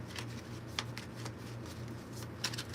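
A deck of Labyrinth tarot cards being shuffled by hand, a close, continuous papery riffle with a few sharper snaps over a low steady hum.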